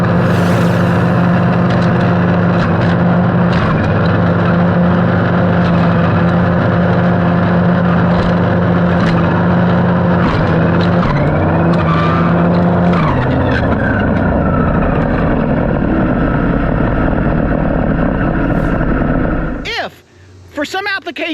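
A Stihl trimmer fitted with a brush wire head chops through thick brush. Its engine drones loudly and steadily, the pitch dips and shifts partway through, and then it cuts off abruptly near the end.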